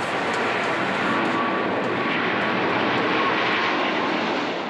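Airliner passing near an Airbus assembly plant in Hamburg, a steady, broad jet roar holding at a loud level for the whole clip, with no talk.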